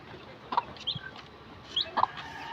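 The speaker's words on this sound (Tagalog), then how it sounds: "7 piraso yung sisiw niya." Soft, close clucking from a hen over newly hatched chicks, heard as several short, scattered clucks and chirps over a faint steady background.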